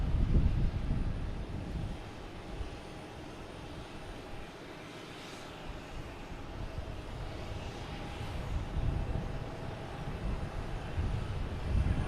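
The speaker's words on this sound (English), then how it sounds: "We have Delta coming in from Raleigh-Durham" A Delta airliner arriving from Raleigh-Durham lands on a close runway at Boston Logan Airport, its engines a steady broad rumble with wind buffeting the microphone, swelling slightly near the start and again toward the end.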